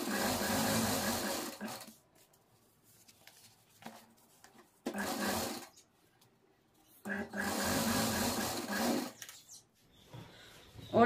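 A sewing machine stitches a folded towel in three loud, buzzing bursts of about two seconds each, separated by quiet pauses with faint handling noises.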